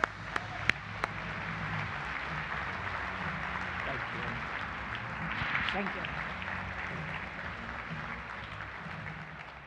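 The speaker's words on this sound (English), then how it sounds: "Let's give her a round of applause." Applause for the Orange County Mayor from an audience of ladies and gentlemen, a steady moderate wash of clapping that runs throughout, with someone briefly saying thanks over it.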